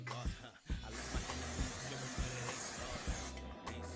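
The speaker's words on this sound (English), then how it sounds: "Make sure you spray your grill spray" A steady aerosol hiss of cooking spray runs for a few seconds, with low mechanical clatter and rumble underneath, then cuts off near the end.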